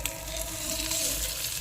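Fish frying in masala in a pan on a gas stove, a steady loud close sizzle with crackling spatter throughout the short stretch, no voices.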